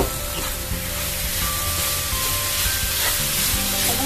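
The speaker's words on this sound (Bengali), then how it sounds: "এখন এর মধ্যে আমি নারিকেল গুঁড়ো দিয়ে দিচ্ছি।" Grated coconut fries in melted jaggery for puli pitha, a loud dense hissing sizzle that stays constant throughout, close up with faint stirring underneath.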